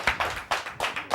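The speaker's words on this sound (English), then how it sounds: "Clap it up, clap it up." A few sharp hand claps in quick succession, close and crisp, five or so evenly spaced beats during a hip hop talk show.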